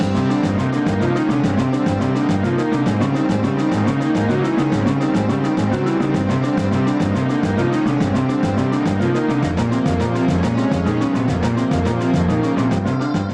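Dense, loud video game boss-battle music from Ocarina of Time in an irregular 23/16 meter, with a driving, continuous pulse of layered synth and percussion throughout, no voices.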